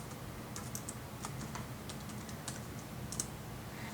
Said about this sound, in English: So if I was to type this into Excel,